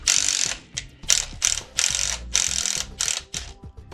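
A socket wrench ratchets on the motor mount nut of a 2013-2020 Ford Focus ST. Close, crisp clicking comes in rapid bursts of repeated back-and-forth strokes, with short pauses between them.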